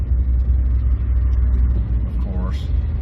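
A Toyota Tacoma pickup truck drives along a road in traffic, with a low, steady engine and road rumble throughout and a brief higher sweep near the end.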